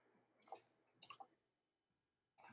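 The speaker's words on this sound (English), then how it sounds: "So click up here in the top left-hand corner, actually double click" A computer mouse gives a quick, crisp double click, two sharp ticks close together in a quiet room, with a couple of softer clicks before and after.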